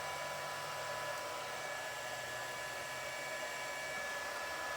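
A SeeSii handheld stick welder runs with a rod loaded in a hot workshop, giving off a steady, unbroken hiss and hum at a fairly quiet level with no voices.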